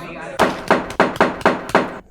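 A hammer strikes a hard surface six times in a steady rhythm, loud, close and sharp, mimicking a judge's gavel banging for order.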